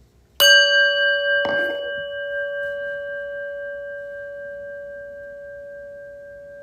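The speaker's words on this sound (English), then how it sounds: "And the prayer bell." A single prayer bell struck once at the start of a meditation, ringing out with a clear sustained tone and a soft second touch, then decaying slowly over several seconds in a quiet room.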